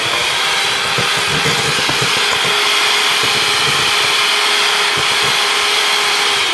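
An electric mixer whirs steadily at high speed, beating egg whites and sugar into meringue for a lemon meringue pie, a constant loud motor drone with faint clicks from the bowl.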